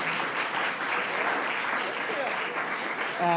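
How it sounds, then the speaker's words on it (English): Sustained applause from a crowd, steady clapping filling the space throughout, with a voice starting to speak over it at the very end. "So a round of applause to you"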